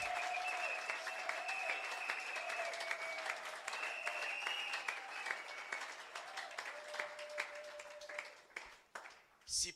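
A church congregation applauds loudly and steadily with sustained clapping and cheering, then the applause fades into scattered claps, while someone sings or speaks over it.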